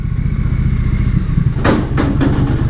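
A Triumph Street Twin twin-cylinder motorcycle engine rumbles steadily at close range, a deep throbbing note broken near the end by a few clattering mechanical thumps.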